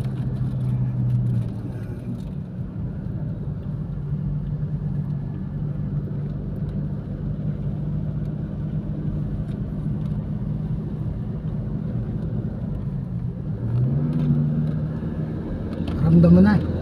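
A Mitsubishi Lancer with a manual gearbox drives uphill, its engine giving a steady low rumble heard from inside the car, with brief voices near the end.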